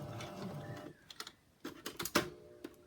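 Sewing machine stitching buttons onto doll clothes, a soft motor whir giving way to a few quick bursts of needle taps, close and quiet with no talking.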